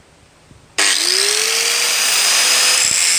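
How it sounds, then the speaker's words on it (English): An angle grinder starts up abruptly and runs at a steady, loud high whine, flattening the face of a wood-splitting maul being converted into a blacksmith's hammer, close and continuous with no talking. "Once I've got that relatively flat with a grinder"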